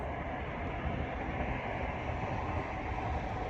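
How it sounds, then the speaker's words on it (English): A GWR train rumbles past close by, emerging from a tunnel on the coast at Dawlish, a dense, steady roar of wheels and engine that holds constant throughout. "a train is coming. I can hear it, it's coming through a tunnel now."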